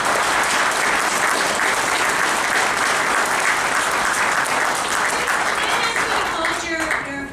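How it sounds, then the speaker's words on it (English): An audience at a town board meeting breaks into loud, dense applause for seven seconds, a full room of hands clapping steadily with some voices underneath before it thins and fades at the end. "Hold your applause, please, so that Mr. Ferguson can get through his statement."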